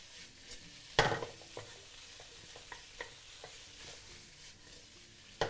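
Peeled prawns stir-fried over medium heat in a pan for garlic butter soy prawns, a soft continuous sizzle broken by a sharp utensil clatter and repeated light scraping strokes, no voices.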